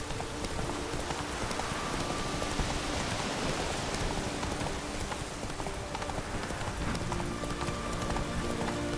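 Continuous rain in The Witcher 3: Wild Hunt video game patters and hisses steadily, a dense even wash of drops with occasional sharper ticks, no voices.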